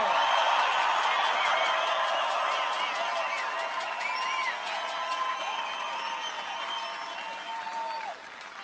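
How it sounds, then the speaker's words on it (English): A large crowd at a political rally in Belgrade, Montana applauds steadily, dense clapping with a few whoops, slowly tapering off near the end. "I think we all should give them a tremendous round of applause"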